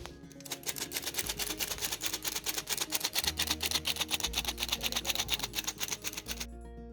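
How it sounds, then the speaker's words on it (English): A hand-cranked sifter works through six cups of wheat flour with a rapid, even ratcheting clatter that continues steadily throughout, fairly close and moderately quiet, with no talking. "I'm just gonna sift the 6 cups"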